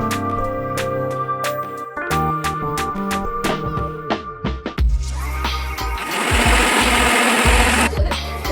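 A mixer grinder grinds fried coconut and chilli-powder spice mix, a loud, steady whirring roar that fills the last few seconds after a stretch of clattering kitchen sounds.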